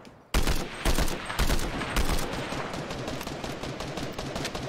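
Rapid bursts of assault rifle fire in Fortnite, starting abruptly and repeating as loud cracks before settling into steady, dense automatic shooting that fills the rest of the stretch.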